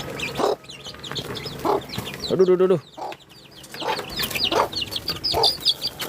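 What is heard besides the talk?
chickens clucking while waiting for feed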